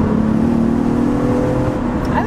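Axle-back exhaust on a 2012 Infiniti G37x sedan, heard from inside as the car accelerates: a steady, fairly loud engine drone that holds without a break across the stretch.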